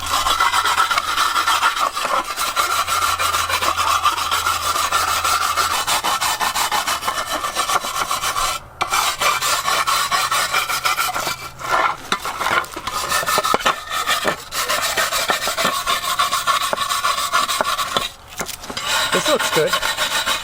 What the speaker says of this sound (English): the vinegar burns my skin. So let's give it another scrub down.